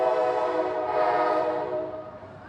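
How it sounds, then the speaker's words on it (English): A train rumbles past with a steady broadband roar and sustained horn-like tones, loud throughout and easing off slightly toward the end. "We got a little bit of a train coming through."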